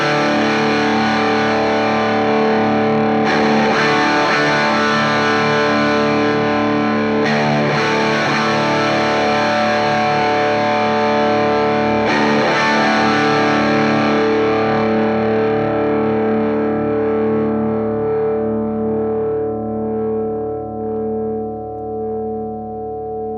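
Electric guitar through a Wampler Ratsbane distortion pedal with its voice switch flicked: loud, sustained distorted chords ringing continuously, with restruck strums partway through, slowly decaying toward the end, and no talk.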